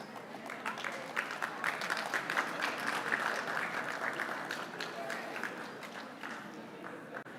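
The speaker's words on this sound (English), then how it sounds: "give them a round of applause" An audience at a senior awards night for the class of 2024 applauds steadily, brisk hand claps filling a hall at moderate distance, with faint voices mixed into the clapping.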